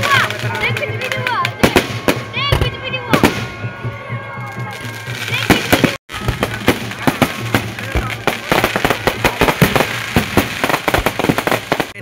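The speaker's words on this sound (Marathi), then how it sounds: "आता फटाफट फटाके फुटतात." Firecrackers and fireworks bursting at a Ravan effigy burning celebration, loud rapid cracks and bangs in dense irregular bursts, close and continuous, with crowd noise beneath.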